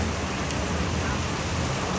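Heavy, steady monsoon rain pours down in Dehradun, a dense continuous hiss that fills the whole stretch without pause.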